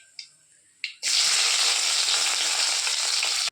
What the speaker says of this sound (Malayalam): ചീനച്ചട്ടി അടുപ്പത്തോട്ട് വെച്ച് വെളിച്ചെണ്ണ ഒഴിച്ച് കടുക് പൊട്ടിച്ചിട്ടുണ്ട് കേട്ടോ